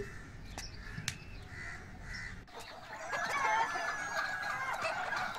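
Chickens on a farm clucking and crowing in a scatter of short calls, growing busier and louder in the second half, with no talking.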